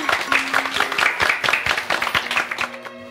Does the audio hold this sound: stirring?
no